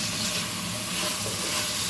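Pork sizzles hard in a hot pan, a dense, steady crackling hiss with no voices.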